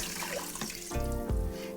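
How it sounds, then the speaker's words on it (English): Chicken stock is poured through arborio rice sitting in a strainer over a pot, a short close splashing trickle that grows heavier partway through. "I pour the chicken stock"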